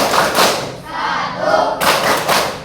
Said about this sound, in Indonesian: ayo tepuk simbol Pancasila